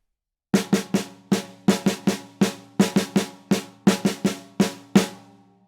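A drum struck slowly in the Herta sticking, a repeating pattern of two quick hits followed by two spaced ones, each stroke ringing briefly, played alone.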